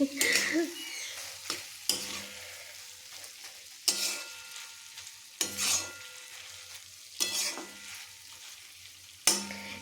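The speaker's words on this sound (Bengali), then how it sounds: "দিয়ে এটা কষাই নেব বলছি" Cauliflower, beans and carrots being sautéed and stirred in a frying pan, with repeated loud scraping strokes of a spatula over a soft, steady sizzle, no voices.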